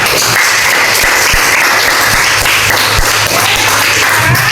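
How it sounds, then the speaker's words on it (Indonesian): A class of students bursts into loud, continuous applause after presentations, thick overlapping clapping holding steady throughout, with a faint low hum beneath it. "Berikan tepuk tangan untuk kita semua."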